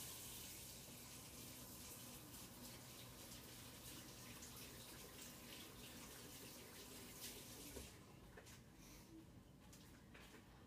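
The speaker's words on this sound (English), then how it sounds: "I'm going to wash my hands." Water from a kitchen tap runs steadily while hands are washed under it, a close, continuous splashing hiss that shifts slightly near the end as the flow is disturbed.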